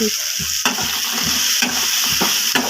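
Cumin and roasted peanuts frying in a pan for chutney, a constant loud sizzle broken by rhythmic scrapes and knocks of a spatula stirring, close up.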